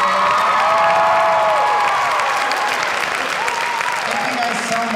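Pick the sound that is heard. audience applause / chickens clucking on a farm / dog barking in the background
audience applause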